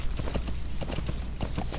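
Horse hooves clip-clopping at a steady trot in Metal Gear Solid V: The Phantom Pain, in a mountain setting, a rhythmic series of close, distinct hoof strikes with no talk.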